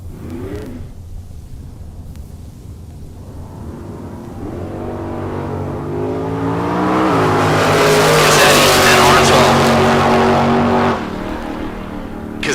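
Drag racers launch down the strip, among them a 1967 Camaro and a wheel-standing wagon, engines swelling into a loud, rising roar with a brief tire squeal before cutting off sharply, under faint crowd and announcer background.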